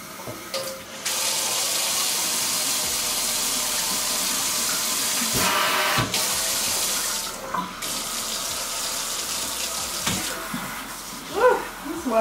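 Running tap water rinses shampoo out of hair in a steady, loud, close rush that continues for many seconds, with brief splashes and shifts as the flow is moved, ending in small splashes.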